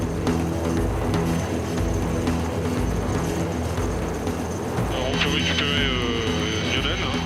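A rescue helicopter on the Mont Blanc massif thuds with a steady, loud rotor beat close by, its turbine whine running underneath throughout.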